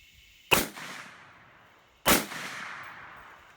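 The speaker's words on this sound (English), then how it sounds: "Wow, really love the thump of that 300 blackout" Two loud, sharp gunshots about a second and a half apart from a 300 AAC Blackout pistol fitted with a Fostech Echo trigger, each a deep booming crack with a long reverberant tail.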